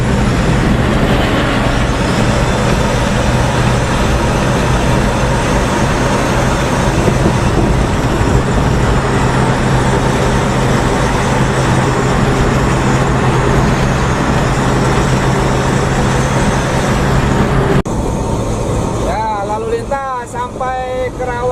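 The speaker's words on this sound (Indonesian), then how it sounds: "Rest area KM 57, rest areanya beberapa PO bus malam, diantaranya Haryanto, Sudirno Tunggajaya, dan bus-bus lain." Night coaches and other traffic idle and move at a highway rest area at KM 57, heard as a loud steady engine drone with a low hum, followed near the end by brief higher tonal sounds and a shift in the noise.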